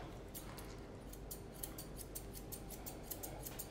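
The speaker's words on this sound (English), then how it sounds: "So I'm opening my shears wider and I'm following that same line all the way around." Grooming shears snip through a poodle's coat while shaping its top knot, a steady run of soft, quick metallic cuts over a faint, constant background hiss.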